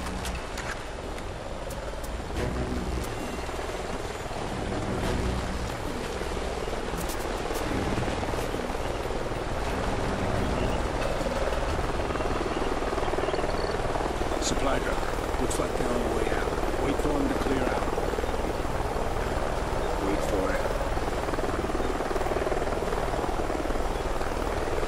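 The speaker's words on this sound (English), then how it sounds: "Sounds like a chopper's up ahead of us." A helicopter's steady rotor drone in Call of Duty: Ghosts fills the whole stretch, continuous and fairly loud, with scattered sharp clicks and faint background movement over it.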